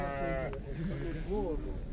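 A freshly shorn lamb bleats a few wavering times while people talk nearby at the Sokuluk livestock market.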